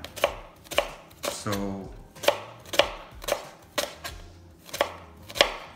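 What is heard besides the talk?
knife slicing leek on a cutting board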